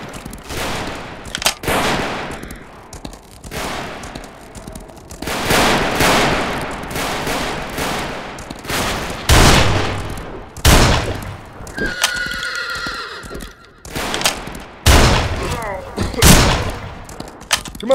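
Loud gunshots in the Western shooter game Fistful of Frags, on the map fofhr_tramonto: several sharp, close blasts and short volleys in irregular clusters, with a brief tonal cry partway through.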